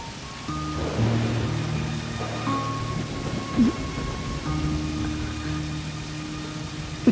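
Steady rain hisses throughout while low thunder rumbles beneath it, with some faint tonal hum mixed in, during a storm.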